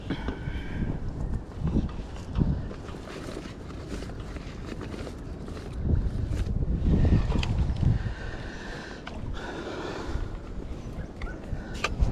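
Gusty wind on the bank of the River Thames buffets the microphone in uneven rumbling surges, swelling louder in the middle and easing off again, with light shuffling movement underneath.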